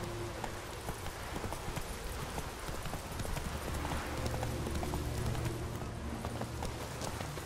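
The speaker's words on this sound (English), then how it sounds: "Run, Roach." Horse galloping in The Witcher 3 video game, a fast, rhythmic clatter of hooves that stays close and continuous throughout over soft outdoor ambience.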